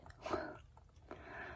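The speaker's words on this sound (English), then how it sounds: "Oh, and yes, I am chewing gum." Close, quiet chewing of Hall of Fame bubblegum, with soft moist smacking and a few clicky mouth sounds in two short bursts, very near the mic in a calm room.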